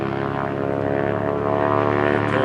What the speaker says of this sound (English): there's a plane that's getting ready to take off.